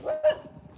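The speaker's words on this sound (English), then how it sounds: "just barks like crazy when she comes around" A dog named Bandit lets out two quick, sharp barks in succession, moderately close on an outdoor walk, followed by quieter rustling.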